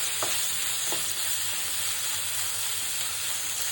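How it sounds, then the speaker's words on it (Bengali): Dried Bombay duck sizzles in a pan as it fries, with a steady close hiss of hot oil and a couple of brief scraping stirs near the start. "একটু ভাজা ভাজা করে নেব শুটকিটা।"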